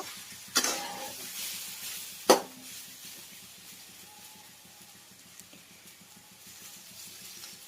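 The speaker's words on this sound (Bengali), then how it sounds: "এখন আবারও আমি নাড়াচাড়া করে ভালো করে লালচে করে ভেজে নেব।" Chowmein ingredients being stir-fried in a pan, with two sharp metallic clanks of a utensil at the start and then a quiet steady sizzle and light scraping.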